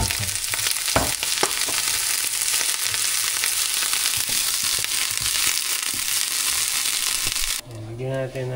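Food roasts in a hot pan, crackling and sizzling loudly and continuously with occasional scraping stirs, before the frying cuts off near the end and a voice is heard.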